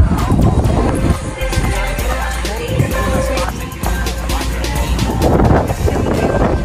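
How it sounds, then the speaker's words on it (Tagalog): Heavy rain and gusting wind roar steadily at a restaurant in the Philippines, a loud continuous hiss with pattering impacts and wind buffeting, with voices faint underneath. "Wow, nalakas ang ulan."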